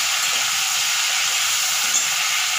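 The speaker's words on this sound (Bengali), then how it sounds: "আমি এর মধ্যে টমেটো এবং কাঁচা লঙ্কা কুচিটা দিয়ে দেবো, ওই তেলেই আমি করব" Chopped tomato and green chili sizzle in hot oil in a pan for alur dom, making a loud, even hiss that stays close and steady from start to finish.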